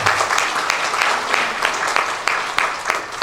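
An audience applauds at a pastor's ordination ceremony, with steady, close, moderately loud clapping and sharper individual claps standing out throughout.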